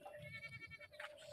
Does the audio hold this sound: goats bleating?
yes